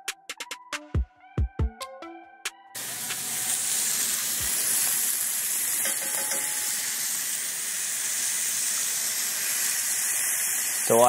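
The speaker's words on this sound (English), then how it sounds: "You're gonna wanna sear the tri-tip on all sides until browned and caramelized." Tri-tip beef sears in a hot cast iron skillet, a steady loud sizzle that starts abruptly after a few sharp clinks and taps and continues unbroken to the end.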